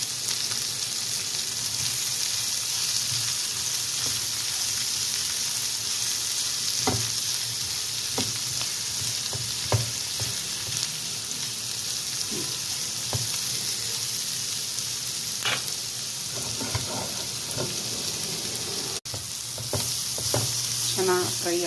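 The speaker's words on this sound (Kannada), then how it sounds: "ಚೆನ್ನಾಗಿ ಫ್ರೈ ಆಗ್ತಾಯಿದೆ" Sliced bitter gourd coated in rice flour sizzles steadily in a hot pan, with occasional scrapes and clicks of a stirring spoon over the constant frying hiss.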